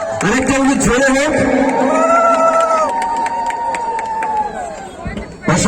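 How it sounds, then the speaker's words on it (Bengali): A loud round of ulu from many women at a Kali Puja inauguration in Panpur, sustained wavering trills held for several seconds over crowd noise and chatter. "আরেকটা উলু জোরে হোক।"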